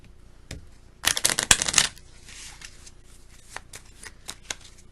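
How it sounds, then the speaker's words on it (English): Bubo cards from the plague-themed board game Bristol 1350 being shuffled close up, in one brisk riffle of under a second, followed by a few light taps and card clicks. "We're going to shuffle these bubo cards back in."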